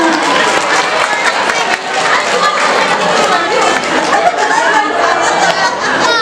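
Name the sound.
students applauding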